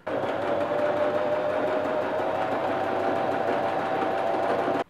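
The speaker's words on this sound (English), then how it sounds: "And sew this line shut, making this into the final loop." A sewing machine runs steadily, stitching a seam closed on a fabric bolero top. It makes a continuous, even motor hum with a faint whine for about five seconds, close by and with no voices.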